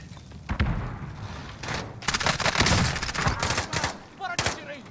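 Gunfire in a shooter video game: loud bursts of shots and thuds crowd the stretch, rattling clusters in the middle and a sharp blast near the end, with a voice talking briefly in between.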